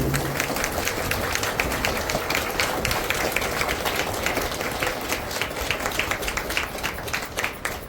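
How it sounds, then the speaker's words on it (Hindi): An audience at a stage inauguration ceremony claps together in loud, dense, continuous applause with no voices on top, the sound even and crowded from start to finish. "जोरदार ताली बजाए सभी लोग एक साथ जोरदार ताली।"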